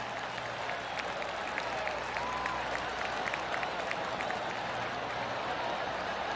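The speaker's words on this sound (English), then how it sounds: "That deserves a golf clap." Steady golf crowd applause in the video game PGA Tour 2K23, a broad wash of clapping, continuous and moderately loud for the whole stretch.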